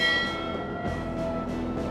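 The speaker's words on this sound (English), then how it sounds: "They ring a warning bell 3 times and message the bridge" A warning bell in the Titanic's crow's nest rings out with sustained metallic tones and repeated strikes, loud and close, over a steady low hum.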